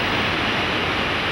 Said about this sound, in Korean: 장백폭포의 물은 꼭대기에서 36m 아래에까지 암벽을 때리며 곧게 쏟아져 내리고